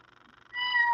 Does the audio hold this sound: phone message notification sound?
yes